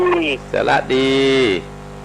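A water buffalo calf at a temple in Chiang Mai gives a few loud, nasal moos and bleats close by, one long drawn-out call following shorter ones, against a steady background hum.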